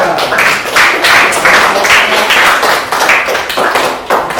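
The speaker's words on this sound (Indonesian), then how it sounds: "Berikan tepuk tangan yang meriah untuk kelompok 2" A classroom audience claps for a student group after its presentation: dense, rhythmic clapping that stays fairly loud and steady for about four seconds, with no voices over it.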